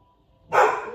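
A dog barks once, a single sharp close bark bursting in after a quiet moment.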